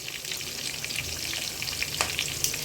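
Sliced onions with bay leaf and cardamom sizzle steadily in hot oil, a close crackling hiss broken by occasional louder pops, with no voices.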